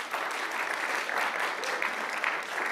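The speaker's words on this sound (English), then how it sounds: "Give yourself a round of applause." Audience applause at an honors program ideation event, a steady, even wash of many hands clapping at moderate volume with no voices on top.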